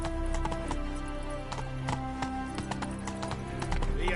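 Roach galloping in The Witcher 3, rapid close hoofbeats drumming in a fast rhythm over a low rumble, continuous for a few seconds.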